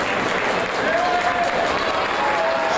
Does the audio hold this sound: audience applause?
yes